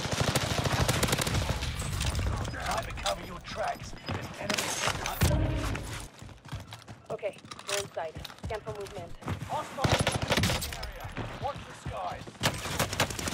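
Gunfire in a first-person shooter game, with rapid bursts of automatic rifle fire and thumping shots throughout, under steady talk from players.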